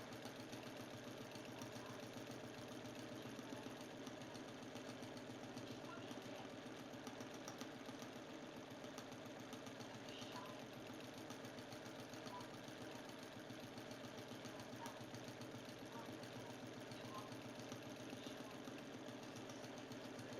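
A sewing machine runs faintly and continuously while stitching scribble and zigzag quilting lines, a steady rapid mechanical whirr with a fine repetitive pulse, heard alone.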